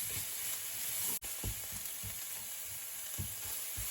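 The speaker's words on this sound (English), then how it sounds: "I'm just going to give these a couple more minutes to saute and cook before I add my mushrooms in here." Garlic sautés gently in a pan on very low heat for garlic butter mushrooms, making a quiet, continuous sizzling hiss with faint scattered pops and one brief dropout, close by and without talking.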